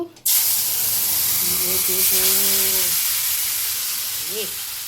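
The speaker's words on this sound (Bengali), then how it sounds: "এখানে কালো জিরা ফোড়ন দিয়ে দিয়েছি, অল্প একটু সর্ষের তেল দিয়েছি" Black cumin seeds crackle in hot mustard oil, giving a loud, steady sizzle and hiss that starts abruptly and runs the whole time; a brief tonal hum and squeak sit over it in the middle.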